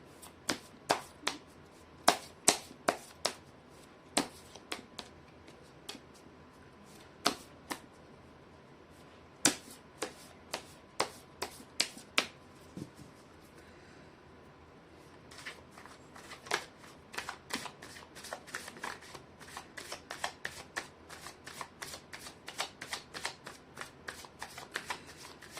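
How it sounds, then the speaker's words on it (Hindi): Tarot cards shuffled by hand in a quiet room, producing crisp, sharp riffling bursts at irregular intervals, sparse at first and then coming in quicker clusters toward the end. "मैं कर लेती हूँ कार्ड की शफलिंग।"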